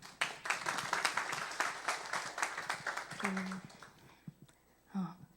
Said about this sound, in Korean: 우리 은선자매 나 박수로 맞아 주십시오